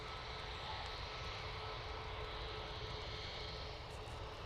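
Continuous broad engine roar of an aircraft taking off on the full-length runway at Dublin Airport, heard steadily from a distance with no speech.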